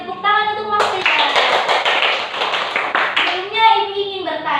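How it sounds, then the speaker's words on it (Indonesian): A school class claps hands together in a brisk burst of dense clapping, with children's voices and a teacher's speech before and after. "Beri tepuk tangan untuk Mas Faizal."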